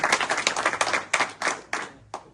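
A crowd at a BJP political meeting in Azamgarh claps loudly and close by, with quick overlapping claps that break into several sharper separate bursts toward the end.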